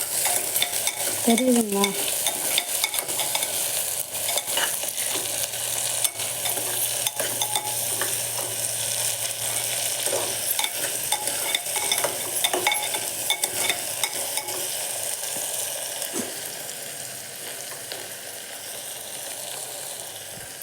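Onions sizzle in hot oil for a tomato rice dish while a spoon scrapes and stirs them around the pan in steady, close strokes; a brief spoken question cuts in near the start.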